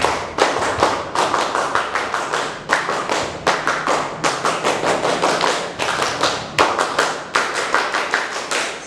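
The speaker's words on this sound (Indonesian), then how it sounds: "3 kali tepuk pramuka." Sharp group handclaps from a Pramuka scout gathering, struck together in tight patterned bursts that repeat over several rounds. The claps are loud and close, with brief pauses between sequences.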